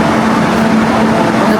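Steady rumbling noise fills an Osaka train carriage during a ride towards Universal City, with a constant low hum and faint voices in the background.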